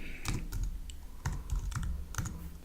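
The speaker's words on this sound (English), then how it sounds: "So let's open a browser and type into Google" Typing on a computer keyboard with close, clattering keystrokes in quick irregular clusters, at moderate volume with no voices.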